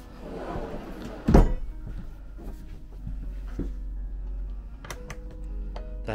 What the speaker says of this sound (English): here are the drawers that you have to press this button to unlock it